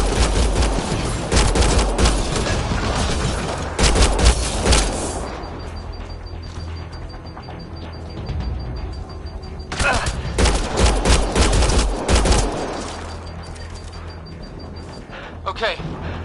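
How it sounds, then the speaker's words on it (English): Heavy bursts of gunfire from a firefight in Mass Effect Andromeda, loud rapid volleys that come in waves with pauses between them, as characters talk over the shooting. "I shoot it!"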